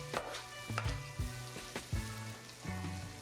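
Onions frying with ground beef in a hot pan for a shepherd's pie, a steady close sizzle broken by several scraping stirs of a utensil.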